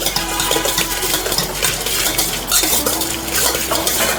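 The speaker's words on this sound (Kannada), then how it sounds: "ಖಾರ ಚಟ್ನಿ ಎಲ್ಲ ಹಾಕಿ, ಮೆಣಸಿನ್ಕಾಯಿ ಚಟ್ನಿ ಹಾಕಿ ಚೆನ್ನಾಗಿ ಮಿಕ್ಸ್ ಮಾಡಿ ಕೊಡ್ತಾ ಇದ್ದಾರೆ" Bonda puri masala is tossed with hot chilli chutney at a street chaat stall, metal spoons clinking and scraping rapidly against a steel bowl in a loud, continuous clatter with busy background noise.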